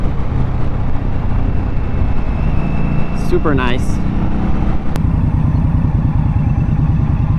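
An Indian Scout Bobber motorcycle engine, 2022 model, runs with a steady, close rumble at low revs while a person briefly speaks over it.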